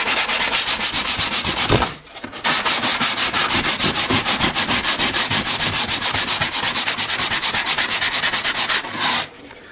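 Aluminium oxide sandpaper rubbed by hand across a model road surface on an OO gauge GWR railway layout, giving loud, steady rhythmic scraping strokes that pause briefly near the start and again near the end.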